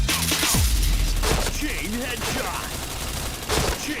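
Rapid bursts of gunfire from the shooter game Point Blank crackle in quick volleys with booming shots, while a voice chats over the action.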